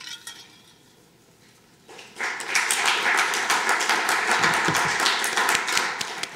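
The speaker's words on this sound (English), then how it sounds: "I love when people clap after the presentation" An audience bursts into sustained applause after a presentation, starting abruptly from near quiet and holding as a dense, steady wash of many hands clapping.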